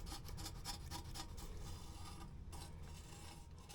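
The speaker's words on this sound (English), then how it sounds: "Just like to pull off all this old gasket" Old gasket material being scraped and peeled off the valve cover of a 2003 Nissan Pathfinder, a quiet, close series of rapid rhythmic rasping strokes with no talking.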